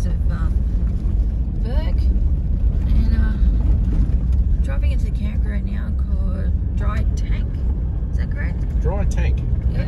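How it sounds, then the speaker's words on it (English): A car drives along a corrugated, stony dirt road into a camp in Gundabooka National Park, its engine and tyre rumble loud and steady throughout, with voices faintly audible over the noise. "Driving into the camp."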